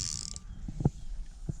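Faint mechanical clicks from a fishing reel's bait runner, a couple of short ratchet-like ticks against quiet outdoor background noise on a river.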